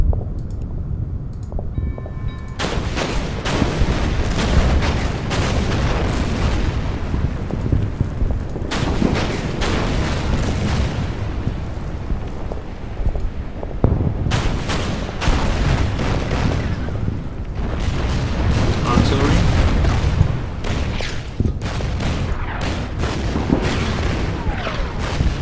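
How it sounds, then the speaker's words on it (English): Artillery in the strategy game Order of Battle: Rising Sun, set on Java, thundering through repeated heavy booms and blasts, dense and continuous with loud close impacts clustered in bursts and no speech. "Artillery."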